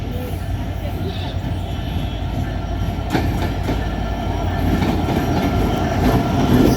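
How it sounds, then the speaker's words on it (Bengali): Intercity 763 Chitra Express train on the Khulna–Jamuna–Dhaka route rolling into Alamdanga station, a steady loud rumble of wheels with faint clicks, growing slightly louder toward the end, with a voice talking over it. "আন্তনগর সাতশো তেষট্টি নং আপচিত্রা এক্সপ্রেস আলমডাঙ্গা প্রবেশ করছে"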